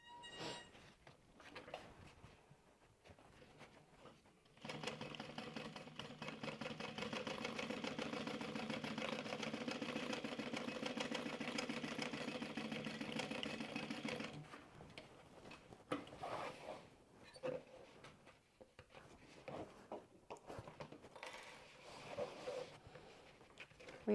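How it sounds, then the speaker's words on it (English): A sewing machine stitching a pleated apron hums steadily for about ten seconds in one continuous run, moderately close, with quieter handling and rustling of fabric before and after. "drop your needle right on your previous stitching."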